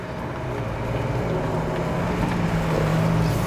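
A 2021 Ford Bronco rolls along in 4A automatic four-wheel drive with no differentials locked, giving a steady, continuous low drivetrain rumble overlaid with wind buffeting at even loudness throughout.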